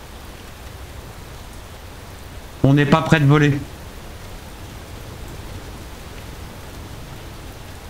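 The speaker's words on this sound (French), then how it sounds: "Viens, on rentre, il pleut." Rain falling in the video game Space Engineers, a steady soft wash of noise throughout, briefly interrupted by a short spoken phrase near the middle.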